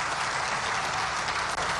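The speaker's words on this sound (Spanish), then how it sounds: "un aplauso para nuestro hermano cardenal que nos acompaña" Audience applause for a cardinal at the inauguration of the Casa Grande del Pueblo in La Paz: dense, steady clapping from a large crowd filling the whole stretch at even loudness.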